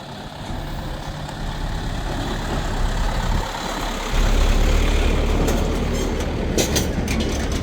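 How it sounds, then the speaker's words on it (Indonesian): A tanker truck's engine rumbles steadily at a Bailey bridge over the Garoga River, a continuous low drone that grows heavier partway through, with some higher mechanical clatter and no talk. "Lihat di belakang kita ada mobil tangki tuh."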